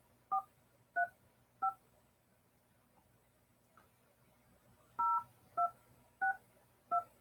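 Touch-tone telephone dialing while a guest is called during a live radio interview show: eight crisp, evenly loud keypad beeps, three in quick succession, a pause, then five more, over a quiet background.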